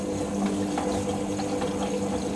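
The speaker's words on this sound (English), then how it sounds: "I'm filling for the first rinse, so we'll fill for the rinse and then do spin after that." A Hoover washing machine fills with water for its rinse: a steady, continuous rush of incoming water over a low pump-like hum, close and even throughout with no talking.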